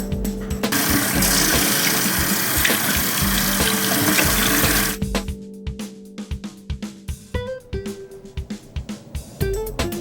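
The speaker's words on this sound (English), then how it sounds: "I'm just gonna go ahead and rinse it off." Running tap water rinsing an oat, honey and sugar body scrub off skin: a loud, steady rush of water for about five seconds, then broken splashes and drips as hands move under the flow.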